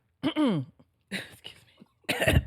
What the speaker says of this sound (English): I like how you leaned into the microphone to clear your throat, though.